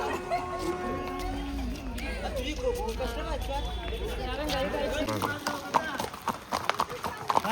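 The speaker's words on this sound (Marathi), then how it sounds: "चला आता आम्ही फिलहाल घोड्यावर तर बसल्या" Hooves clop unevenly on a path as horses walk carrying riders at Matheran, close and continuous beneath lively overlapping chatter from several people.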